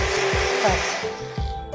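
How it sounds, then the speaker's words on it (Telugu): An electric mixer grinder purees raw mango pieces, a loud, steady motor whine close by with rhythmic churning thumps as the blades work through the fruit. "మామిడికాయ ముక్కల్ని మెత్తగా మిక్సీలో గ్రైండ్ చేసేసుకోండి."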